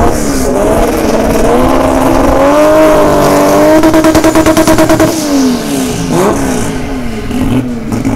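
A race car engine tuned with a Haltech ECU revs hard with anti-lag and launch control active, a loud sustained wailing drone that rises and dips, broken by a rapid stuttering burst of pops midway before the revs fall and climb again.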